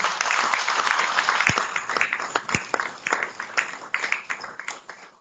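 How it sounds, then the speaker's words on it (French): An audience at a regional cycling committee's general assembly breaks into loud, close applause that thins out into scattered, tapering claps toward the end. "je vous demande de l'applaudir"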